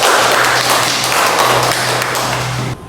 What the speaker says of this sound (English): let us give each group a round of applause